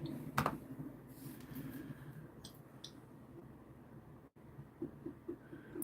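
Soft keystrokes tap on a computer keyboard in short irregular bursts, faint and close, with a few louder clicks over a quiet room background.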